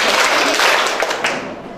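An audience claps together in a dense, continuous burst of applause, close and loud, with no single claps standing apart.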